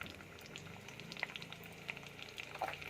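Chopped onions fry in a pan with cumin and peanuts for wheat rava upma, giving a soft, steady sizzle with scattered faint pops, low and even throughout.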